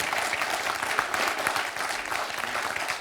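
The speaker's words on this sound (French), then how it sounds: "On applaudit Laurence." Studio audience applause on a French television quiz show, a steady round of many hands clapping at moderate loudness with no talk on top.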